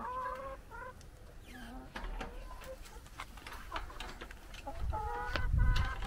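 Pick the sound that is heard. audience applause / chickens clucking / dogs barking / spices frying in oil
chickens clucking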